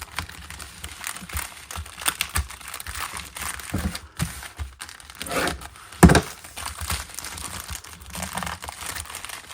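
Shipping envelope handled and opened up close, with irregular papery crinkling, rustling and scattered crunches, including one sharper burst midway.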